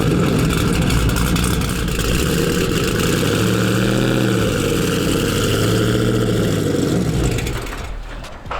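A 5th-generation Chevrolet Camaro SS engine idles and rumbles close by while the car creeps into a garage. The steady low drone swells slightly midway and fades near the end.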